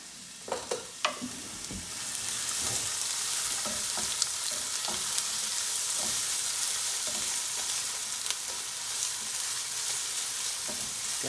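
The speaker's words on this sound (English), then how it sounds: "Let that sizzle for just a minute." Onions sizzle steadily in a hot frying pan with a continuous hiss, preceded by a few clattering stirs and occasional pops.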